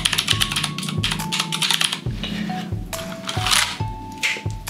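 Close, crisp keystrokes on a Drop ALT 65% mechanical keyboard, clicky presses coming in quick bursts with short pauses, loud and alone without any voice.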